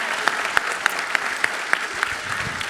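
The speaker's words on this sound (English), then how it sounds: "Let's give both Jason and Christy a round of applause for helping out" An audience at an awards gala claps in a brief round, with one close clapper standing out in a steady, evenly spaced beat above the softer crowd.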